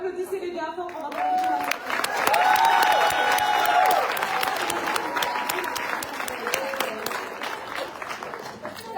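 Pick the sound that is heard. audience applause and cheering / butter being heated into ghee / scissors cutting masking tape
audience applause and cheering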